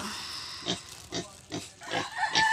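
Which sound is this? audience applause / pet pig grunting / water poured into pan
pet pig grunting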